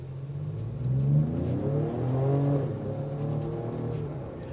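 Engine and exhaust of a 2025 Ford Explorer ST accelerating hard, a rising and falling drone with shifting harmonics heard from inside the cabin, steady and fairly loud with no talk.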